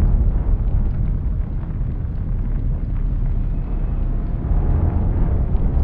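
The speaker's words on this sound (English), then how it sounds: "That was only two torpedoes." Torpedo hits on warships rumble in the naval game Atlantic Fleet, a loud, continuous low-frequency roar of explosions and churning water that stays heavy and dense throughout, with no talking over it.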